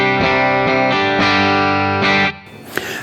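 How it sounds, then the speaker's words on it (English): Distorted electric guitar chords played through a worship pedal board into an amp capture, ringing loud and sustained in a few rhythmic strums before cutting off with a brief muted scrape. "So this is just the amp."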